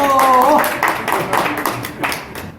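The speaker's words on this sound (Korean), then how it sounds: "자, 박수!" Short burst of clapping from a small audience at a billiards lesson, loud and close, with voices and tonal chatter mixed in at the start before it thins out.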